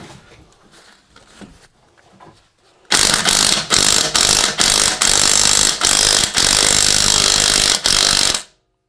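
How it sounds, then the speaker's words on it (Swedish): An impact wrench hammers at a bolt on a Volvo S60 during coilover fitting, loud, close and rapid, in several bursts separated by brief pauses, after a quieter stretch of faint shop noise. "Nu ska vi köra lite med smacken igen."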